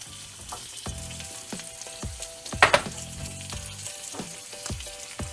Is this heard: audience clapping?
no